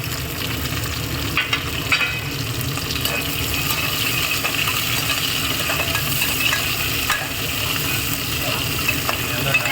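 Green chilies fry in a pan with onion, garlic and dried red chilies for tomato rice, giving a steady crackling sizzle close by with occasional scrapes of stirring. A voice speaks faintly over it.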